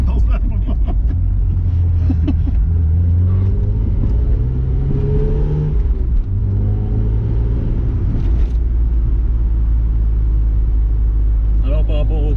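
A BMW E30 325i engine hums loud and steady from inside the cabin while driving, with a deep low drone and gentle pitch swells as it pulls, and people talk over it.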